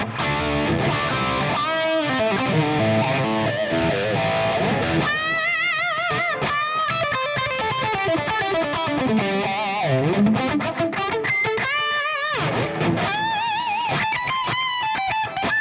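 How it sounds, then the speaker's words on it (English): Heavily distorted Ibanez AZ24S1F electric guitar through a Friedman-style preset plays loud, dense metal riffs with sustained chords and bending leads, continuous and close throughout. "let's take some nice metal-like distortion"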